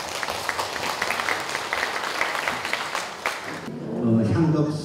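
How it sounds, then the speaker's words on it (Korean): An audience applauding a head monk at a Buddhist peace prayer service, a burst of many hands clapping that fades after a few seconds into a low murmur and voice-like sound. "우리 큰 스님께 박수 한번 부탁드립니다"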